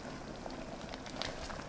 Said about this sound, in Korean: 양파가 말랑해질 때까지 조금 더 끓여주시면 됩니다